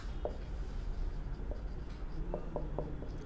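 A pen scratches out short, faint strokes on paper or a board during a Class 9 coordinate geometry maths lesson, a few brief taps and scrapes spaced irregularly over a steady low room hum.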